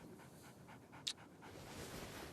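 A large dog pants softly in quick rhythmic breaths, faint and close in a quiet room, with a brief sharp squeak partway through.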